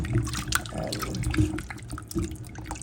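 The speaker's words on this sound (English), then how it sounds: "when I add the water, and I'm adding some vinegar" Water and vinegar are poured onto raw oxtail in a bowl for washing, giving close, splashy liquid sloshing and dripping with a few soft knocks, loud and continuous without talk.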